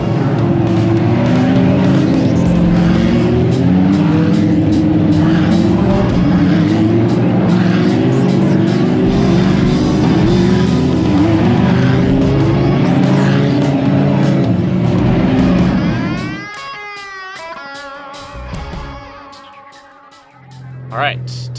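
Lamborghini Super Trofeo race cars in qualifying at Laguna Seca, loud engines roaring and shifting as several cars pass in close succession before the noise drops and a lone car whines away into the distance.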